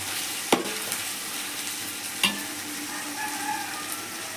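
Onions and masala for chicken biryani fry with a steady, even sizzle, marked by two distinct spatula scrapes against the pan and a few softer stirring sounds.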